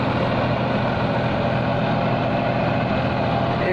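A 2021 Swaraj 963 tractor with a 63 hp engine runs an 8-foot superseeder, giving a steady, loud, low engine drone that holds unbroken throughout with no talk.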